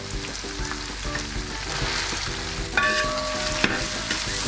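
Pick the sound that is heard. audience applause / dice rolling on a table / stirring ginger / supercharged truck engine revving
stirring ginger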